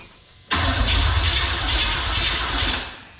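A V8 engine swapped into a G-Body car cranks and catches abruptly. It settles into a loud, lumpy idle with an aggressive cam, then fades as it starves for fuel near the end.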